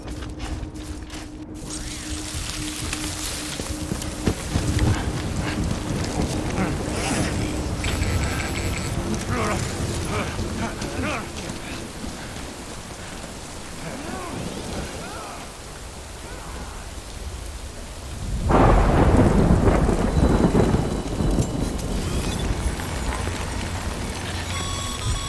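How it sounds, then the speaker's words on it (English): Rain and thunder inside the video game Death Stranding: a steady hiss of falling rain with mechanical clanks and rattles running through it, swelling into a louder, deeper rumbling wash near the end. "Good thing it was raining."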